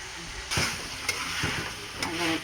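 Onion, pepper and carrots sizzle and crackle in a hot pot with steady frying noise, broken by a few sharp stirring scrapes and clatters close by, with no talking.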